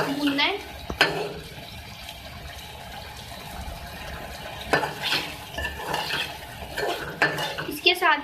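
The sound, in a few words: sautéing chopped green chilies with beef in a pan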